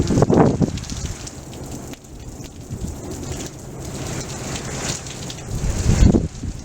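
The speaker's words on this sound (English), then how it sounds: "It's raining bad." Heavy rain pours down in a dense, continuous hiss during a blizzard, with gusty wind surges and low rumbles rising and falling, loud and close with no voices.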